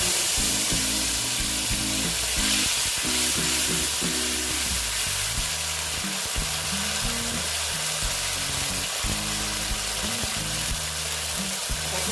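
Panch phoron spices frying in hot oil for an ash gourd dish, a steady close sizzle over a constant low mechanical hum that runs throughout, with no talking.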